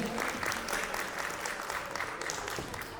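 Audience applause at a children's award ceremony for a national contest, steady dense clapping from a crowd filling the whole stretch without a break.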